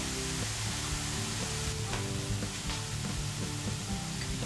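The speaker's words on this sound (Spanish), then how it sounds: "Ponemos el aceite en un recipiente al fuego" Oil warming in a small saucepan over the stove for a vegan béchamel gives a steady, even sizzling hiss with faint crackles throughout.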